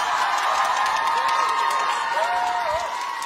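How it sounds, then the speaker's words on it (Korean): A studio audience applauds and cheers four trainees after their stage performance on a K-pop survival show, a loud, continuous roar of clapping and shouts with high-pitched screams holding steady throughout. "우리 네 명의 연습생에게 다시 한번 뜨거운 박수 부탁드립니다"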